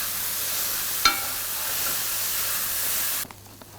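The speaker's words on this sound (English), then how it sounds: "And now I'm going to give it a really good mix." Kimchi fried rice with chopped carrots, green capsicum and kimchi being mixed in a hot pan, a steady loud sizzle and hiss with a single sharp utensil knock, cutting off abruptly near the end.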